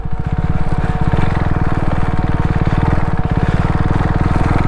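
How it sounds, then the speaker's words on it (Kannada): A motorcycle engine runs steadily with a rapid, even pulsing throb, loud and close, on a forest trail leading to an old temple, with no speech. "ಪುಣ್ಯ ಬೈಕ್ ತಂದಕ್ಕೆ ಇಷ್ಟ ಆಯಿತು."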